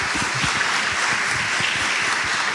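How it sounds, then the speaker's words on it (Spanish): An audience at a tenth-anniversary event gives a dense, sustained round of applause, with close, sharp individual claps heard throughout. "merece un aplauso"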